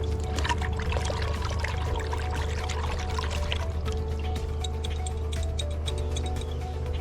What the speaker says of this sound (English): And then I'll give it a good rinsing in some water.